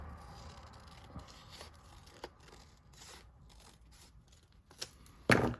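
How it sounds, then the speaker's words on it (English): Scissors trimming the edge of a standard 8.5 by 11 paper sheet for a junk journal, a few faint soft snips and rustles, ending with a louder paper crunch close by. "Let me just go ahead and trim that edge just a little bit."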